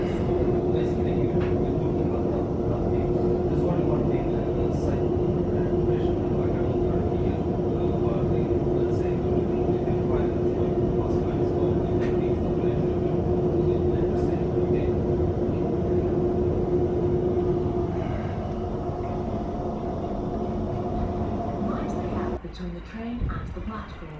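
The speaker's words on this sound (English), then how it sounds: "And this train comes in and stops." A train pulls into platform 2 at Clapham Junction and comes to a stop, a steady close rumble and hum of wheels and motors that holds level and then changes abruptly near the end.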